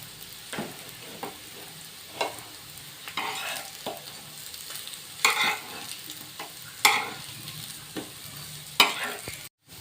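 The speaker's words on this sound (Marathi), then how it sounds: "आता दुसऱ्या साईडने भाजून घेऊया परतून घेऊया" Spinach vadi pan-fried on its second side gives off a quiet continuous sizzle, broken every second or two by sharp scraping and turning strokes from a spatula in the pan.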